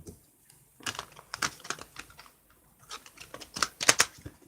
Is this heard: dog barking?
no